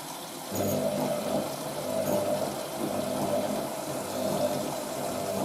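An April 1986 Hotpoint 9530 Electronic 1000 Plus washing machine fills with water while its GC motor runs, giving a steady, moderate rushing hum that continues unbroken throughout.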